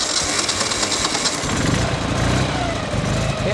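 An old motorcycle engine idles with a continuous chugging rumble that runs close and steady, its low beat settling smoothly partway through.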